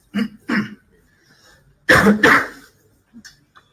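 A person coughs several times during a live conversation: two short coughs, a pause, then a heavier double cough. Each is close and sharp, followed by faint breathy sounds.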